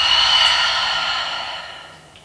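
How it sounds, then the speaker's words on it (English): A single long, slow exhale through the mouth during a restorative yoga class, a close breathy rush that gradually fades over about two seconds, with no talking. "Exhale through your mouth."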